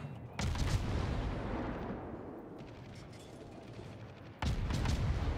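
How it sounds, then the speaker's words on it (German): Anti-aircraft guns fire in a World of Warships naval battle: a dense, continuous roar of rapid gunfire that swells and fades, then kicks back in loudly near the end. "Direkt mal Flugabwehr voller Möhre auf."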